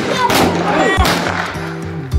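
Sharp firecracker bangs burst at a New Year celebration, two loud close blasts about a second apart, with a third smaller pop near the end, over a droning background.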